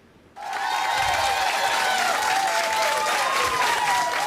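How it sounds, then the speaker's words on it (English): A packed school board meeting crowd breaks into loud, dense, sustained applause that starts suddenly and continues steadily as the superintendent walks into the room. "Nelson County School Superintendent Wes Bradley was met with thunderous applause as he walked into the meeting"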